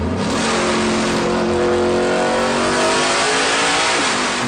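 A Hendrick Motorsports Camaro, a Le Mans race car with a 5.8-litre V8, revs hard and close for several seconds, its loud, raspy engine note climbing and falling steadily with no talk.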